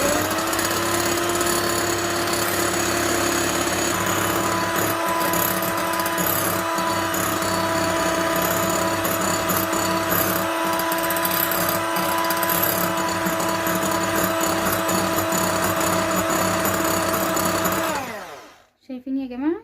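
An electric mixer beats meringue for vanilla cake in a steady, loud motorized whine with a strong steady hum, running continuously for almost the whole stretch before cutting off at the end.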